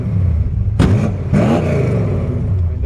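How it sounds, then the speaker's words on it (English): A 1953 Ford F100 short-bed truck with turn-down exhaust revs up, its exhaust roaring in two quick blips over a steady rumbling idle, close by and loud with no talking. "when you get on it, it's got a nice roar to it. Listen to this exhaust"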